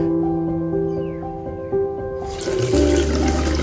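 Strong water gushes in a small restroom fitted with a bidet, rising suddenly to a loud, steady rush after a few seconds of low humming, close by and with no speech.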